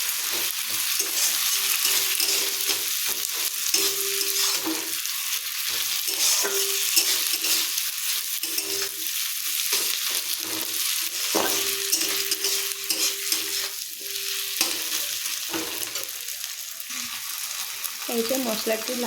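Ginger paste and tomato masala fry in a pan as the spices turn red, giving a continuous loud crackling sizzle with occasional stirring scrapes that runs unbroken throughout.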